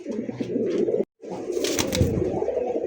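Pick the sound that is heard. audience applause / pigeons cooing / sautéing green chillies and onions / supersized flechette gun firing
pigeons cooing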